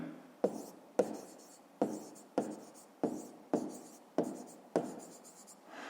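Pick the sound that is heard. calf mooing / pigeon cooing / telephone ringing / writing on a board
writing on a board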